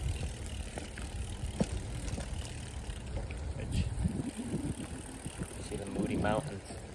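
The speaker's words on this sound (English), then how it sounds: "bike ride home in the rain." A bicycle ride home in the rain through Alamogordo, New Mexico, with steady wet tyre hiss and road noise under wind, plus low rumbles and occasional bumps as the bike rolls slowly along.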